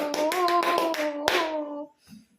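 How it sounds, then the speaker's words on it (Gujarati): A run of quick handclaps, about eight in a row, with one louder clap near the end, all over a sustained vocal tone. "તમારી માટે મારા તરફથી તાળીઓ."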